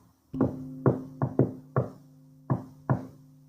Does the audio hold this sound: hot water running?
no